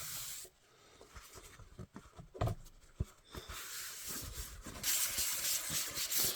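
Sanding on a Lost in Space Jupiter 2 model build with 320 grit sandpaper during exterior prep: quiet, irregular rubbing strokes of paper on the surface, with short scratchy bursts and pauses, close up and faint.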